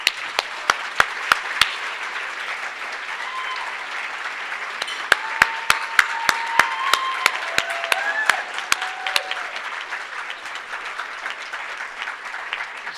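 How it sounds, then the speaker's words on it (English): Applause at a formal cherry blossom grand ball, a crowd clapping steadily for the full stretch, with a few sharp, close individual claps standing out and faint voices mixed underneath. "So could we give them a round of applause?"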